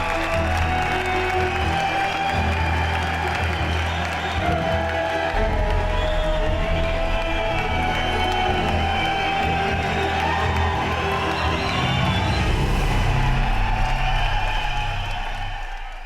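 A crowd at a race winners' announcement applauds and cheers, clapping steadily and loudly throughout with scattered whoops under a low background hum.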